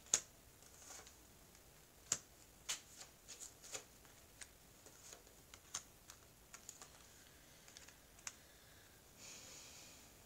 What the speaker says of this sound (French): Alors, je vais étaler les cartes.